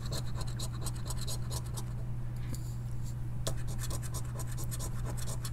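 Indiana Hoosier Lottery scratch-off tickets are scratched with quick, repeated close-up scraping strokes, faint and steady against a low background hum.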